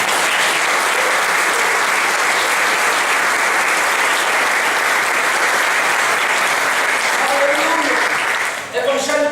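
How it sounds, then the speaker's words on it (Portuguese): A church congregation applauds for the Lord, loud sustained clapping from a large crowd that holds steady for several seconds before thinning out, with a voice rising briefly at the end. "Dá um aplauso ao Senhor."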